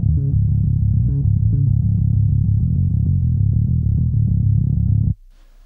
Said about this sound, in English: compression's all the way, low pass at 175 hertz, and the low band on its own, I suppose, sounds like this